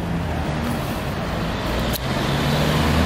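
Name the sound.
road traffic noise, many cars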